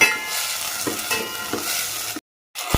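Sprouted legumes fry in oil with browned onions, giving a steady close sizzle with a few stirring scrapes, then a brief cut to silence before the sizzle returns.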